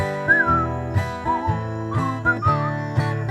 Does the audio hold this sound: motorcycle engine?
no